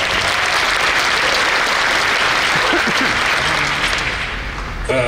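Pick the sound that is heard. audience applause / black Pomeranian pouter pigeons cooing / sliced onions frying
audience applause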